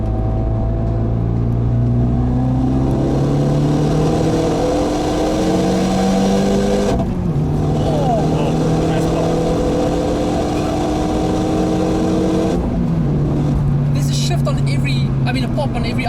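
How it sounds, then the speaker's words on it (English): Renault Mégane RS 275 Trophy engine revving hard in third gear, pitch climbing steadily before sharp breaks at each upshift with exhaust pops, loud from inside the cabin with people talking over it. "Now you must rev it out in third"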